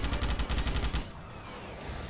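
Gunfire from shooting practice in the video game Starship Troopers: a rapid, loud burst of repeated shots through the first second, then fading into a quieter background.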